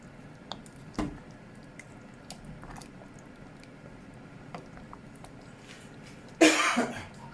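Several short coughs from a person with a cold in a quiet kitchen, one sharp cough early on, a couple of fainter ones, then a louder, harsher burst near the end.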